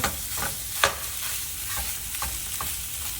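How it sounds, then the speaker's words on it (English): Hot sausage being broken up and stirred in a hot pan, with a steady sizzle under repeated scraping and tapping strokes of a utensil, one sharper clack near the start. "let's get this sausage broke up"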